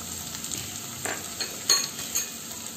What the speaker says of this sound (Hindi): अब हम यहाँ पे अपने टमाटर ऐड कर देंगे